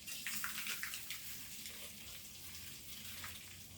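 Washed rice tipped into a pot of East African pilau ingredients, giving a steady close hiss and sizzle with a few soft rustling bursts near the start and no talking.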